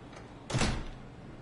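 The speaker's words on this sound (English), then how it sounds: "someone opening doors and closing doors" A door in the video game SOMA slides open or shut with one short mechanical whoosh and thud, standing out from a quiet low ambient hum.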